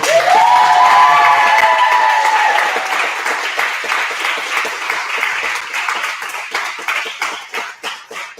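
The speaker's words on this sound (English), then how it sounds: "And give him a big round of applause." Audience applause ringing out at a martial arts belt presentation and black belt testing, a dense burst of clapping that starts loud and steady, then thins into scattered individual claps as it fades.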